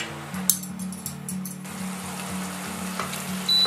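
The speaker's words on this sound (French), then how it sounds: "on va faire cuire ça jusqu'à ce que le liquide disparaisse" Shallots with a pinch of herbes de Provence sizzle steadily in a pan as their liquid cooks down, a continuous close frying hiss with a few light clinks of a utensil against the pan.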